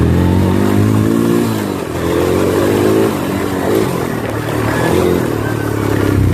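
A motorcycle fitted with a homemade camera mount rides along with a loud, continuous engine drone and wind roar, the pitch shifting slightly as it moves.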